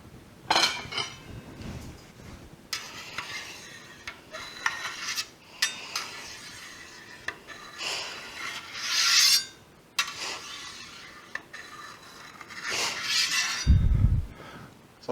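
A knife slicing through cheese curd into quarter-inch cubes for homemade Cotswold cheese, heard as repeated soft rasping strokes with light clinks against the pot, close and without talk.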